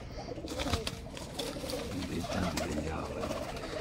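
A pigeon coos in low, soft repeated notes against a noisy, rustling background in Sialkot, Pakistan.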